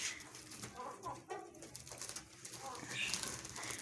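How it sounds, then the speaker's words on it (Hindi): A Sussex hen rummages inside a sack of wheat grain nearby, giving soft low clucks and coos amid rustling, with other birds faintly in the background. "ये हमारी एक मादी है जी सुसेक्स की, ये बोरी के अंदर ही चली गई है खाना ढूंढती ढूंढती"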